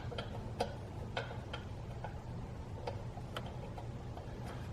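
Light, irregular ticking rattle from a slack wastegate actuator arm on a BMW E90 335i with the N54 turbo engine, faint clicks over a steady low engine hum, heard up close with no talking.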